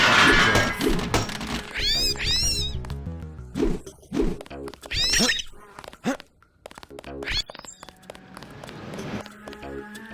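A cat meowing in the video game Deus Ex, several loud, drawn-out meows and yowls in bursts, mixed with thuds and gameplay noise.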